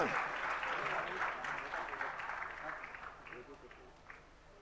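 An audience at a live religious discourse gathering applauds in a sustained wash of clapping that gradually fades away.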